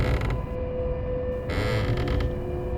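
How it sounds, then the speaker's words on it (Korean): A creaking sound comes from the worn floor of an old apartment building, a close, continuous groaning creak with a high wavering tone that keeps going without a break. "낡아서 그런지 바닥에서 삐걱거리는 소리가 제법 났어요."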